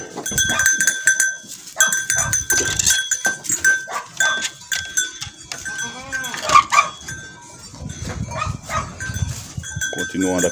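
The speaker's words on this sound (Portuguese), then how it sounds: "Todos se alimentando aí perfeitamente aí, os cabritinhos" Young goats crowd a trough of feed ration on a farm, bleating repeatedly and close by, mixed with clanking bell-like knocks and rustling movement that come in uneven bursts.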